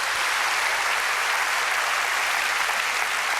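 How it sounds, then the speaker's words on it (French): Studio audience on a French-language Quebec television talk show bursts into loud, dense applause that holds steady and sustained throughout, with no voices breaking through. "On l'applaudit, mesdames et messieurs, c'est extraordinaire."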